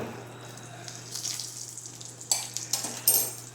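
Spice tempering for snake gourd kootu crackles and sizzles in hot oil, a soft steady fizz broken by several sharper pops near the end, close by with no talk.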